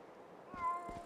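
Short meow from a cat in the fantasy role-playing game Drakensang, a single faint, close mew over a quiet background.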